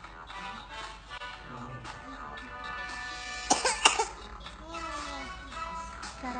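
A person with a cough, being treated in a traditional therapy session, coughs in a short, loud burst midway, heard over steady background talk and room noise.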